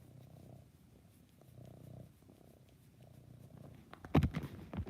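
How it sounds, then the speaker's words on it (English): A soft, steady purr rumbles in rhythmic cycles, close and quiet, followed by a few brief louder rustles near the end. "Hear him purring."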